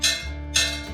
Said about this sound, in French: tu as des rayons des fois qui vont se mettre à grésiller